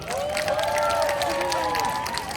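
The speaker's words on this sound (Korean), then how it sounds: "응원 박수 한 번 부탁드립니다" A crowd at an outdoor campaign rally for a Gunpo mayoral candidate gives a continuous round of supportive applause, while a voice talking over a loudspeaker runs on top of the clapping.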